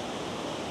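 A side river in Norway rushing down toward Vøringsfossen waterfall, a steady, dense broadband roar of running water, close and continuous with no voices.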